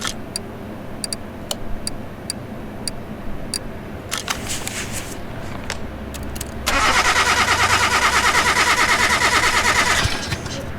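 Engine cranking over in the video game Car Mechanic Simulator 2018: scattered light clicks and ticks come first, then a loud, steady, rapid churning crank runs for about three seconds before cutting off, with no talking.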